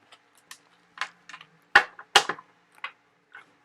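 Tarot card deck being shuffled by hand: scattered close, crisp clicks and riffling snaps, several quick bursts at irregular intervals with near silence between, no voice.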